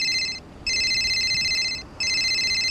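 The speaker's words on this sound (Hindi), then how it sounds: "अरे यार, इस लियो का फोन आ गया।" A mobile phone rings with an incoming call, a repeating electronic tone in two bursts separated by a short pause, close and clear over faint room noise.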